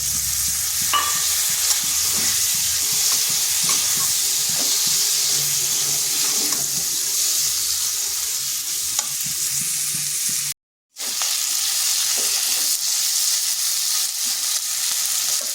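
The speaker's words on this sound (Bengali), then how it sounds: "মশলাটা একটু ভেজে নিচ্ছি। এরপর এখানে দিয়ে দিচ্ছি একটা টমেটো।" Spices and tomato frying in a pan for a bottle gourd curry, a steady loud sizzle with stirring scrapes throughout and one brief dropout near the end.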